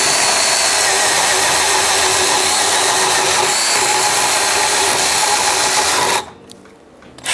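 A Milwaukee M12 FHS-0 cordless chainsaw cuts into wood with a loud, continuous high whine of the motor and chain for about six seconds, then cuts out suddenly, leaving a short near-silence before it revs back up.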